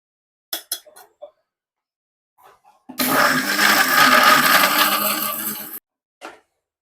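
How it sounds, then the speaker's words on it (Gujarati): An electric blender whirs loudly for about three seconds, grinding chutney ingredients with a little water, salt and sugar, framed by brief clicks and handling noises before and after. "જેથી કરીને આ બધી વસ્તુ આ ગ્લાસ પીસાઈ જાય"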